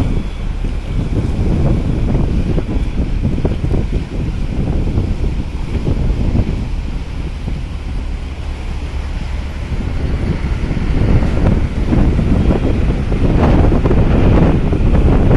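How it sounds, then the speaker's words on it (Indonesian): Strong, gusty wind roars steadily across the microphone at the Merak ferry harbor in bad weather, with a low rumble throughout and no voices. "anginnya masih kencang mas bro"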